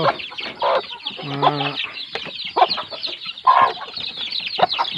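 A hen with a brood of two-week-old chicks gives close, irregular clucks and short calls in separate bursts, with quieter gaps between them.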